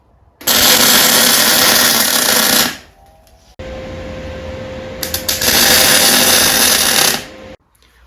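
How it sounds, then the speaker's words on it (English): Welding crackles around galvanized pipe held in a pipe vise, finishing a stub axle with its washer and circlip refitted: two loud, harsh, continuous bursts of several seconds each, close up, separated by a lower steady hum. "go around it again with the welder just to finish it off"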